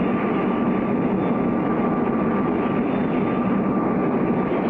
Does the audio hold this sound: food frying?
no